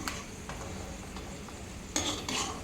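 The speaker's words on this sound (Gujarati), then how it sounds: "આવા કાણાવાળા ચમચામાંથી આપણે આવી રીતે તેલ નિતારી અને કાજુને આપણે એક પ્લેટમાં લઈ લઈશું" Fried cashews lifted out of hot oil with a slotted metal spoon, with a steady low sizzle of frying oil and light metallic clinks and scrapes of the spoon against the pan.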